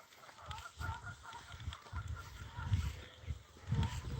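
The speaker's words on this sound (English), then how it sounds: "There's a lot of geese crying out like crazy." A flock of many geese honks and calls out repeatedly outdoors on a morning walk, their cries distant and fairly faint, with no talk over them.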